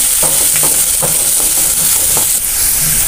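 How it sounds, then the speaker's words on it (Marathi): Spring onion greens and chana dal being stirred in a pan with red chilli powder, giving steady frying sizzle with a few soft spatula scrapes, close and continuous, with no voices. "आता मी इथे अर्धा चमचा लाल तिखट घेतलाय, ते घालायचं आणि हे चांगलं मिक्स करून घ्यायचंय"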